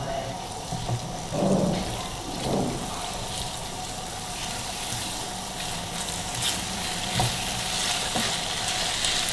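Chicken pizza roll stuffing thickens in a hot pan while being stirred, a steady low sizzle broken by a few scraping strokes near the start, close and moderately loud.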